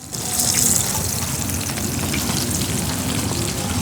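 Onions frying in hot oil in a pan used for frying hilsa fish, a loud, continuous crackling sizzle close by with a brief sharper burst at the start, steady without pause.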